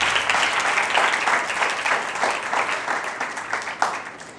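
A church congregation claps loudly and steadily during a Mother's Day service honoring parents, the dense applause holding for several seconds before it gradually thins out.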